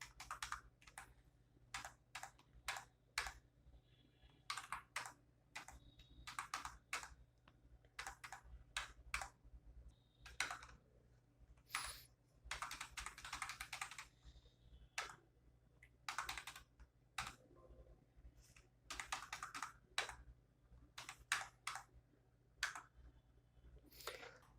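Typing on a computer keyboard while entering product details into a wholesale purchase bill, a steady run of soft close key clicks in irregular bursts with short pauses, no voices.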